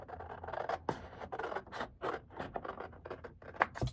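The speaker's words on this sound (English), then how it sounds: "So then I just cut on that line and cut on this line" Scissors cutting through junk mail paper along a marked line, a close run of crisp snipping and scraping strokes in an uneven rhythm, with no talking.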